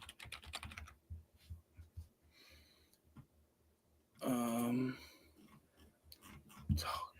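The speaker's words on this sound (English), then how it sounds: "I'm typing in the wrong thing into my document." Computer keyboard typing in bursts of quick, close clicks broken by pauses, quiet in the room, with a short stretch of a voice partway through.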